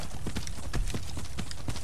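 Horse hooves galloping across ground in the Skyrim video game, a steady rapid clip-clop rhythm close up and fairly loud, with no talk over it.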